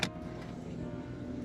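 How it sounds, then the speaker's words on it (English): A Kia's power window winds down with the engine off, a short, faint, steady electric motor whir lasting under two seconds after a brief click. "what you can also do in case of emergency is like you can open the power window"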